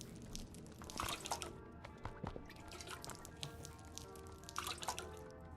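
Water drips and trickles while plants are watered in the Drudge video game, with soft scattered drops and splashes over a steady ambient game background, no talking.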